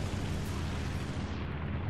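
Bf 109 E-3 cannon fire in War Thunder, a dense continuous rumbling roar of rapid shots blending with engine noise, loud and sustained for the whole stretch, with the high end thinning slightly near the end.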